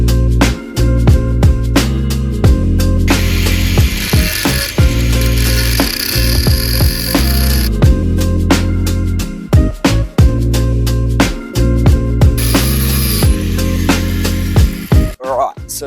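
A metal exhaust bar on an Audi A3 is cut with a loud power tool, a steady harsh mechanical grinding drone with rattling and chattering that dips briefly several times as the cut proceeds, close up.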